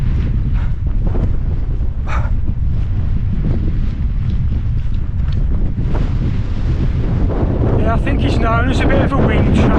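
Strong wind on the open hilltop of Titterstone Clee in Shropshire buffets the microphone in a loud, continuous roar, with a voice faintly underneath toward the end.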